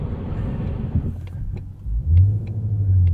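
A 2020 Ford Mustang Shelby GT350R heard from inside while driving normally: a steady, loud engine rumble with road noise that swells into a deeper, stronger drone near the end, no talk.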